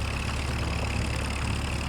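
Low-horsepower Allis tractor engine idling in Farming Simulator 25, a steady even rumble held close and constant throughout.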